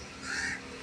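A single crow gives one short, harsh caw, fairly faint and alone against a quiet background.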